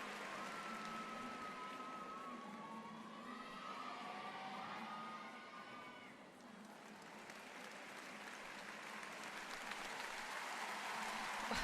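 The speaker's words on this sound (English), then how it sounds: "The crowd enjoyed that too. Huge cheers going up in each tumbling pass." Crowd in a gymnastics arena cheering and applauding after a men's floor routine at a World Challenge Cup in Paris, a steady wash of clapping and shouts that dips briefly midway and then swells again, loud and continuous with no clear talk.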